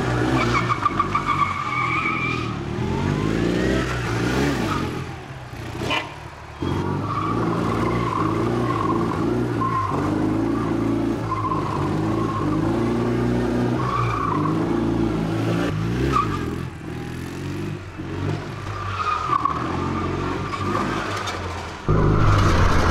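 A stunt motorcycle swings through an aggressive U-turn, its tyres skidding and scrubbing in a long rough hiss over a revving engine, loud and close for most of the stretch, with brief dips and a sharp cut near the end.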